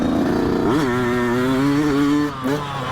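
A Yamaha YZ125X two-stroke dirt bike being ridden, its engine holding a loud, buzzing drone that climbs in pitch, levels off, then briefly drops and picks up again near the end.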